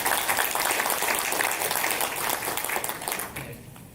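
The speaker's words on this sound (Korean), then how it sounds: "뜨거운 박수 부탁드리겠습니다." An audience at a Korean housing management academic conference applauds warmly, a dense, sustained clapping close by that fades out toward the end.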